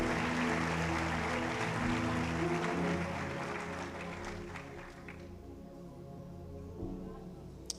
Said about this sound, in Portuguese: Bate palmas para Jesus, Ele merece.